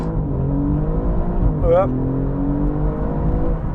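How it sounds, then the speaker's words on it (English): An Alfa Romeo Giulia GTAm revs with its Michelin Pilot Sport Cup 2 tyres spinning for grip, a loud steady engine drone close up, briefly under a short spoken word. "Tyres struggling for grip."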